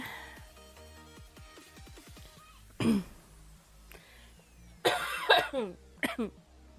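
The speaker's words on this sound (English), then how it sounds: "I will try and cough away from the microphone." Two separate bursts of harsh coughing, close and fairly loud, over faint background music with a brief throat noise between.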